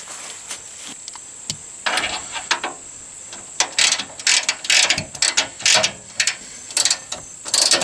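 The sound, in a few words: ratchet tightening Allen bolt on Jeep Wrangler fender flare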